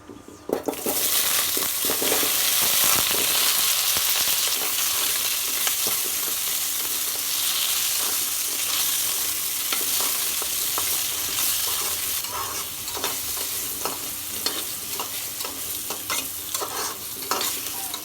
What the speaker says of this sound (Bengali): এবার আলুগুলো ভেজে নেব।